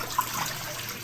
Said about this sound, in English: So my fluid, I just pour that down the sink